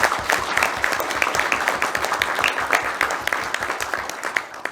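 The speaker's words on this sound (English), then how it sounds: "Please give a big round of applause for them." Audience applause fills a conference hall at a game development event, steady dense clapping from a sizeable crowd lasting throughout, fairly loud and close with no talking over it.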